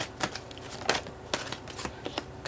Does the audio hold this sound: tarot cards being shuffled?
yes